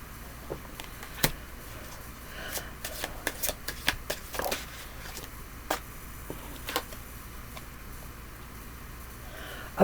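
Dark romance tarot cards being shuffled by hand, a quiet run of crisp riffles and flicks with sharper snaps scattered throughout, close and fairly faint.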